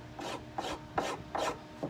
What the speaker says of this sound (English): take you a good sharp knife and just kind of scrape with the grain of the wood